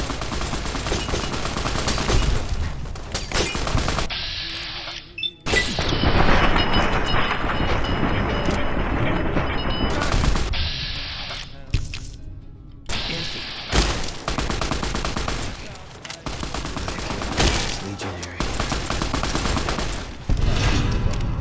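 Gunfire in Fallout: New Vegas: loud, close bursts of rapid shots and heavy reports come in clusters with short gaps between them, over a rumbling background.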